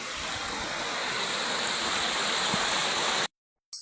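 Steady rushing water at a forest stream's source fills the scene, a loud continuous flow like a small waterfall close by, cutting off abruptly near the end.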